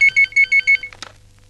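A mobile phone rings with an incoming call in a Telugu drama scene, giving five short, evenly spaced electronic ring bursts at close range before a brief rustle and then quiet.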